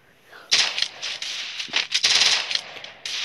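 A Thompson submachine gun in the video game Free Fire lets off several rapid bursts of loud, close automatic fire separated by short pauses, with no talking.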